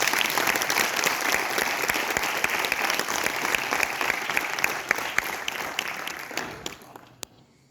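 Audience applause at a university poetry recital, a dense sustained wash of many hands clapping that holds steady and then tapers off near the end, with a last lone clap.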